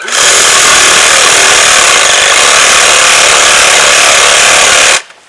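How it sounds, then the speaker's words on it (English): A Sawzall reciprocating saw cuts into a hosta plant in the garden with a loud, continuous buzzing rasp close by, running steadily for about five seconds before stopping abruptly. "This is a Sawzall, and this will slice right into"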